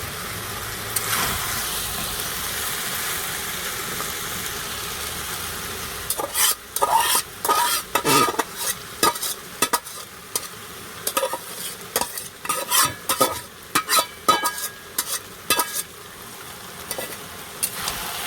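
Boiled chow mein noodles are tossed and stirred in a hot pan, sizzling softly before bursts of scraping and clattering stir strokes come in an irregular rhythm, close by, with no talking.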